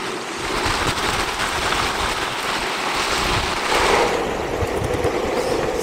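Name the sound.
wind while riding an electric skateboard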